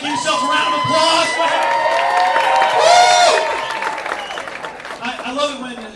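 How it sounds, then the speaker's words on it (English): A comedy club crowd at the Virginia Beach Funny Bone bursts into loud, sustained applause with whoops and cheers, a dense wall of clapping and shouting that swells midway and continues throughout, with voices mixed into the noise. "Give yourself a round of applause."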